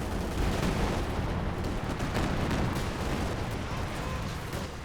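Artillery barrage in a multiplayer real-time strategy game, dense and continuous, with overlapping booms and crackling blasts under a constant loud rumble and no voices.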